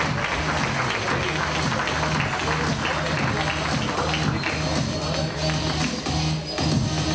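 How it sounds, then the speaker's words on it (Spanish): A crowd applauding the 14 new professional players of the Liga Nacional de Baloncesto Profesional at the 2018 draft, sustained dense clapping filling an indoor hall without pause. "un fuerte aplauso para los 14 nuevos jugadores profesionales de esta Liga Nacional de Baloncesto Profesional"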